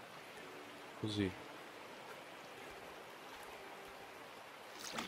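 Water rushes through a gold-mining sluice in the Gold Rush game, a steady broadband wash with a brief bump in level early on and a short spoken word.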